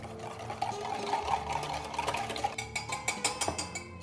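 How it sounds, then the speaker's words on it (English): Egg salad seasoned with salt and pepper gets mixed in a bowl, a soft rubbing churn giving way to a run of rapid rhythmic scraping taps of utensil against bowl, close and clear with no voice. "Now we're going to give this a good mix."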